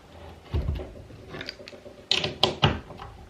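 A wrench loosens the fasteners on the metal auger pieces of a screw turbine with a few separate ratcheting clicks and metal clanks, close by and fairly quiet, and the bursts grow sharper near the end.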